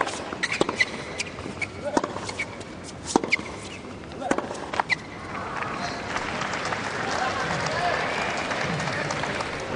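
Tennis crowd at a 2009 Australian Open second-round match, with sharp scattered claps and shouts from a cheer squad early, then swelling into a broad wash of applause and cheering, with commentary talk underneath.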